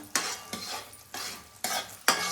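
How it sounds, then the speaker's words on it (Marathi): Jaggery syrup is stirred in a pan for sesame laddoos, giving five separate scraping strokes of a spoon against the pan in a steady rhythm, close and fairly soft. "याचं आपण एकसारखं ढवळत राहायचं"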